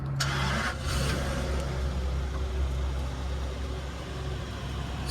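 A 2003 Toyota Century V12 engine starting: a brief cranking burst at the start, then settling into a smooth, even running hum up close, with no talk.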